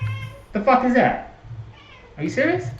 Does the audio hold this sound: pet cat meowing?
yes